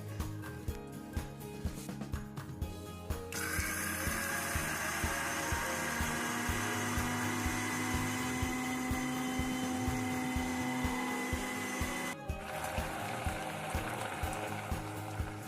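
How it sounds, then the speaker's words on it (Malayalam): A kitchen mixer grinder whirs loudly for about nine seconds as it grinds roasted coconut, a steady high-pitched motor hum that starts abruptly and cuts off sharply, with clattering kitchen sounds before and after. "വറുത്ത് വെച്ച തേങ്ങ നമ്മൾ മിക്സിയിലിട്ട് അരക്കുക"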